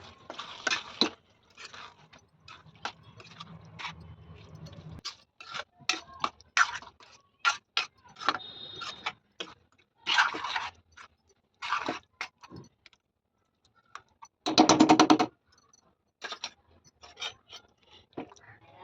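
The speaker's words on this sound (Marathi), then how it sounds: "तर आता हे सर्व छान मिक्स करून घेऊया" Pav bhaji vegetables with beetroot being mixed in a pan make intermittent squishy scrapes and soft clicks in short bursts separated by quiet gaps. The sounds are close and moderately faint, and no one speaks.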